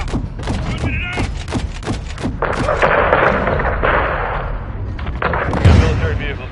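Modern Warfare combat with heavy gunfire, sharp rapid shots at first giving way to thick booming bursts and a roaring wash of sound, loud and close, with voices talking over it.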